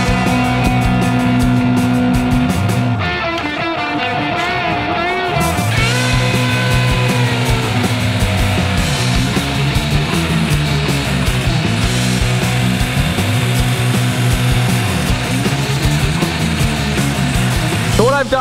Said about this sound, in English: Let's do some grinding, then I'm gonna talk a little bit more about grinding.